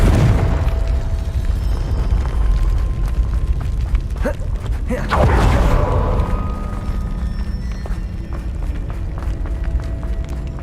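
Fiery Confringo spell blasts in the wizarding game Hogwarts Legacy, loud booming explosions with bursts around the middle, over a dense rumbling game soundscape with footsteps and a voice.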